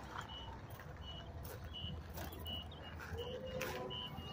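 Truck reversing alarm at an auction yard, a regular series of moderate-volume beeps repeating about every second over steady outdoor background noise while a boat is brought in.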